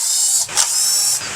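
Power tool or ratchet removing valve cover bolts from an engine, a steady whirring mechanical run with a short dip and creak near the middle, close and alone without talk.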